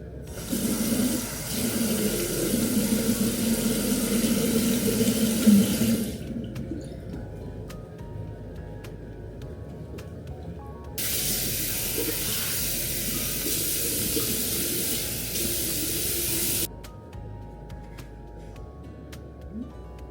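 Tap water runs steadily into a sink while cleansing oil is rinsed off a face, in two long, even gushes separated by a quieter stretch of small splashes and drips.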